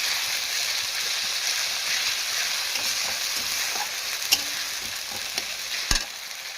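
Tomatoes cooking with salt in a pan sizzle in a loud, steady hiss, broken by a few light clicks and taps of a utensil toward the end.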